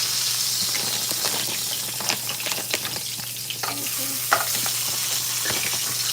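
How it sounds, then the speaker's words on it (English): Sausage sizzles and spatters steadily in a frying pan, with a continuous crackling hiss and occasional sharper pops under a low constant hum, close and fairly loud throughout. "I'm gonna make some sausage for him"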